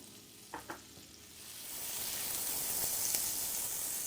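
Minced garlic frying in butter in a pan for creamy Tuscan chicken, a steady close sizzle that builds and holds after a couple of brief clinks of a utensil.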